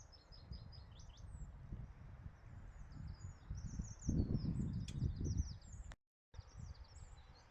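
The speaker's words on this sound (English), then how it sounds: "And with the birds singing, and we got sunshine." Small birds chirp and sing outdoors in Northern Ireland on a sunny spring day, scattered high calls over steady low rumbling wind and rustling, with a brief dropout near the end.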